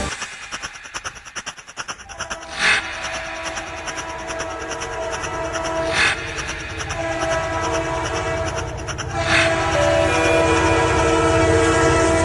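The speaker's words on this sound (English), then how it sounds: "Last train to Amsterdam." A train bound for Amsterdam rumbles along with a steady rolling drone and rhythmic track clatter, punctuated by three short horn blasts spaced a few seconds apart, growing slightly louder toward the end.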